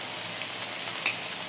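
Fish frying in spiced oil in a pan, for a mixed river-fish curry: a steady, close, moderately loud sizzle runs throughout, with a faint clink near the end and no talking.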